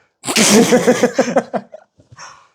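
A single loud sneeze up close, a sharp burst of breath and voice, followed by a quiet sniff or breath.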